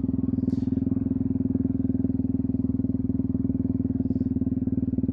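Motorcycle engine pulling steadily after a shift into second gear, throttle opened progressively, a dense rapid firing pulse holding loud and close with no break for the full few seconds.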